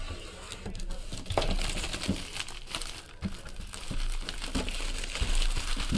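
Plastic wrapping and card packs from a 2017 Upper Deck Marvel Premier box crinkle and crumple close up, with steady rustling, tearing and handling noises throughout and no talking.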